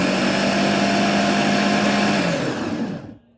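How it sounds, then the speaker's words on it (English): A food processor whirs loudly as it blends a salt and cinnamon mixture, a steady motor drone that runs for a few seconds and then spins down to silence. "place it into a food processor. Lock it down and just give it a quick stir"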